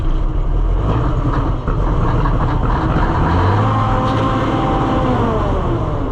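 A Cummins 855 Big Cam diesel idles in a Ford L9000 semi truck, a loud, close, steady rumbling throb with slight shifts in engine speed.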